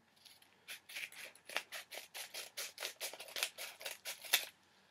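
Scissors snip open a bubble mailer in a quick run of about a dozen close, crisp cuts in even rhythm, with no voice.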